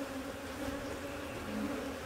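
Honeybees being shaken back into their hive after a powdered-sugar varroa mite check give off a steady, dense buzzing hum that holds throughout, fairly close and with no talking.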